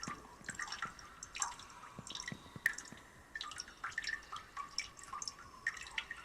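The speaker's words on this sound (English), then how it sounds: "There is running water." Dripping and trickling water echoes through a video game cave, with irregular drops and splashes falling at varied pace over a faint steady background.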